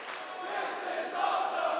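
A wrestling crowd at a PWX event roars continuously after a near fall, a dense, steady wall of cheering that swells slightly louder toward the end.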